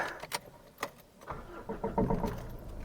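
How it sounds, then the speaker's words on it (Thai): Mitsubishi Triton pickup truck from 2020 starting up, a few faint clicks and knocks before the engine cranks and catches into a steady low rumble, close by and fairly quiet, with no talk. "เรามาสตาร์ทรถดูด้วยกันนะครับ"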